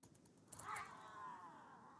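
A cat meows in the video game Rimworld: a single drawn-out, rising-then-falling meow, quiet and somewhat distant, with no talk over it.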